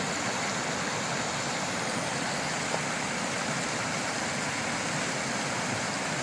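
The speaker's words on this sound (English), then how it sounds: "See the waterfalls, I should say." Rapids rush between two waterfalls at a beaver dam, a steady, dense broadband roar of flowing water that holds constant throughout with no talking.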